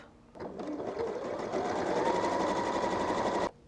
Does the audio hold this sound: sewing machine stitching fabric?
yes